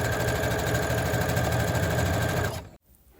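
A sewing machine stitches down a wide folded hem on a ruffle jabot collar blouse, running in a steady continuous whir at close range for over two seconds before stopping abruptly.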